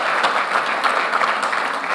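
Dense, steady applause from a large audience at an Amway India leadership summit, filling the hall continuously without pause.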